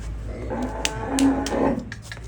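A young female buffalo on a Punjab dairy farm lows in a few drawn-out, nasal calls, close and fairly loud, with a low farmyard rumble beneath and no talking.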